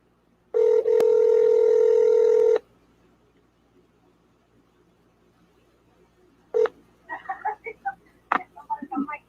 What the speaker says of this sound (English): Let me just dial, get this going, get you on speaker.